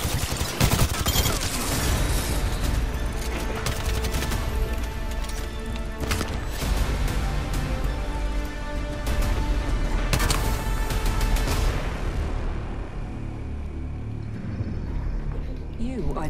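Dense, continuous gunfire in the battle royale game Apex Legends, rapid overlapping shots and impacts filling the whole stretch, loud and busy with no letup.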